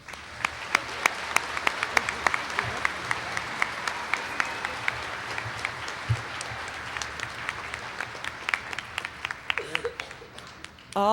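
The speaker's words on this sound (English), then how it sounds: "Let's give them one more round of applause." Sustained applause from a large crowd, steady clapping that thins out toward the end with a few scattered claps.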